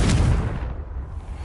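In Hogwarts Legacy, the Confringo explosive spell lands as a single loud, rumbling burst that fades over about a second, with nothing else over it.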